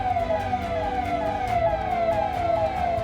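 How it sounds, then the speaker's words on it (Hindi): A wailing police siren sweeps up and down repeatedly over a steady low traffic rumble in Burhanpur, India, amid unrest, loud and close with no voices. "सन्नाटे के बीच पुलिस के सायरन की आवाज गूंज रही है।"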